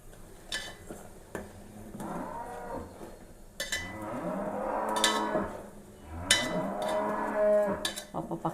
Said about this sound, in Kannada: ಜೊತೆಲಿ ಹಸು ಬಡ್ಕೋತಾ ಇದೆ